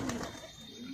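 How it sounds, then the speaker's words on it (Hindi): Soft, low cooing of a sambal pigeon repeats in a steady rhythm, fairly close, with a faint background hiss and no talking. "बहुत ही बढ़िया कबूतर है"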